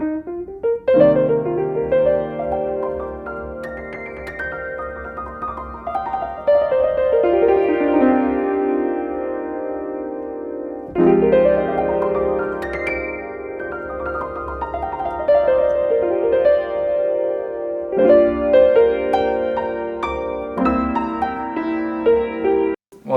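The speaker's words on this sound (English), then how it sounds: "this is the original piano loop right here" Original piano loop sampled for a hip-hop beat, a looping sequence of sustained chords and descending-then-rising runs that repeats about every ten seconds, loud and full with no voices.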